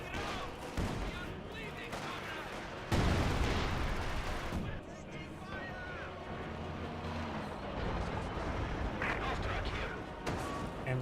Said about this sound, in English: Maxim firing away. We also have a Zis gun barrage over here.